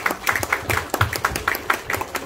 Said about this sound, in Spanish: Un aplauso para todos los que van a apoyar el día de hoy.